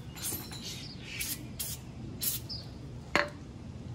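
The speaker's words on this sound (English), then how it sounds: "Spraying her on." Degreaser sprays onto a car's brake caliper in several short, faint hissing bursts spaced a second or so apart over quiet background noise.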